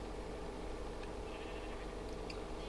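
Paired sheep in Minecraft with the Direwolf20 1.12 modpack let out faint bleats over a steady, dense game background, with no speech.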